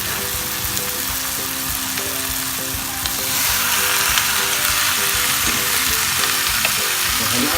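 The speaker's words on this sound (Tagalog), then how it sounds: "ilagay na natin yung ating pork. Ilagay natin yung pork." Pork dropped into a pan with tomato for pork binagoongan, crackling in a loud, dense sizzle that swells noticeably partway through as the meat hits the oil, with light stirring and no voices.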